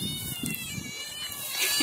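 A cat meows a few times close by in a home, the short cries faint against a soft background hum, with no talk over them.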